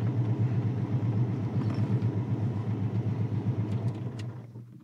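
A mid-engined car's engine, mounted just behind the firewall, rumbles steadily with a low, throbbing drone from inside the vehicle while driving, fading slightly toward the end.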